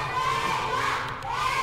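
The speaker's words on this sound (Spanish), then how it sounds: "el grito es para Estrella 2000 con ese derribe" A crowd shouts and cheers steadily at a lucha libre wrestling show in a gym after a takedown. The roar is loud and continuous, dipping briefly before swelling again.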